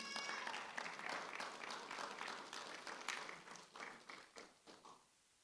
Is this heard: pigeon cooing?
no